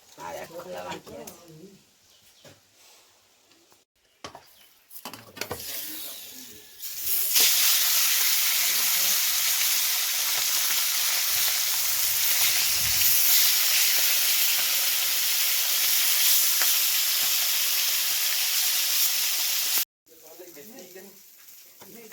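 Fish fries in hot oil with a loud, broad sizzling hiss that rises suddenly and holds steady for several seconds before cutting off, with a person talking before and after.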